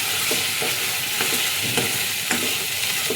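Ingredients for chutney fry in oil on a stove, giving a constant close sizzle marked by a few soft scraping stirs at intervals.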